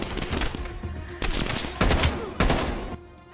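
Gunfire in Call of Duty Black Ops Cold War: loud, close bursts of rapid automatic shots in several separate volleys with short gaps between them, no talk.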